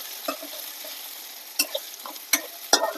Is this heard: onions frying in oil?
yes